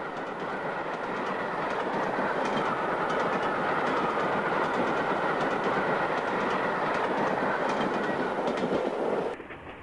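Flying Scotsman, a steam locomotive working a special train from Lincoln to Llandudno, passes at Winwick in 1966–67 with a steady, loud roar and clickety-clack of wheels over rail joints, easing off sharply near the end.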